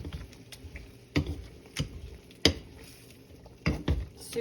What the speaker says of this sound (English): as it starts cooking in the pan, you just start mashing.